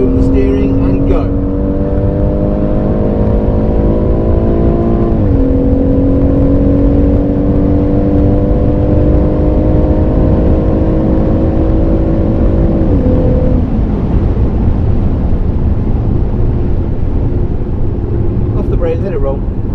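Race car engine at the Goodwood circuit holding a steady loud drone whose pitch climbs, drops at each gear change, then climbs again before easing off, with a continuous rush of wind and road noise throughout.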